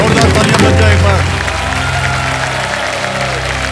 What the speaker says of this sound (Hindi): जोरदार तालियां बज जाए एक बार।